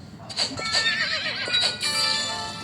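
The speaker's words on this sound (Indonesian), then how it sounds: "Dia kuda apa? Oh, dia kuda bersayap." A winged horse in a video game neighs with a high whinny, joined by clip-clop hoofbeats and several shrill cries, loud and close for nearly three seconds.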